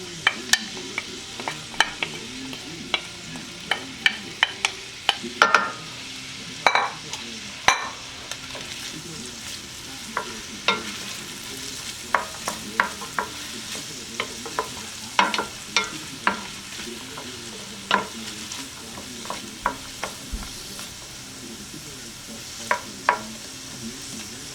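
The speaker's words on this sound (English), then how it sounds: "And next I'm adding the garlic." Garlic sizzling in a pan of onions while cooking stew pork, a steady frying hiss broken by frequent clattering stirs and scrapes of a utensil against the pan.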